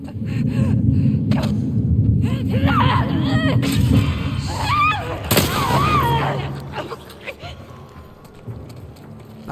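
Rapid gunfire and booming blasts from The Last of Us Part II fill the scene, with chaotic electronic effects and bursts overlapping continuously before tapering off.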